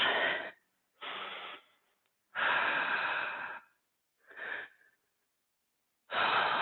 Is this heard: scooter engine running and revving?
no